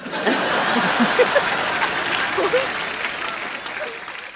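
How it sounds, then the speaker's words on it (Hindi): An audience at a comedy stage show applauds steadily for about four seconds, with scattered chuckles and talk mixed into the clapping. "ओए तालियां भी"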